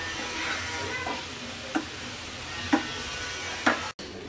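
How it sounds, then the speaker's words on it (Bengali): Coconut and jaggery being stirred in a pan, with a soft steady sizzle and three short scraping strokes of the spoon spaced about a second apart, close and fairly quiet. "অনবরত নেড়ে নেড়ে আঠালো হওয়া পর্যন্ত আমরা এটাকে রান্না করব"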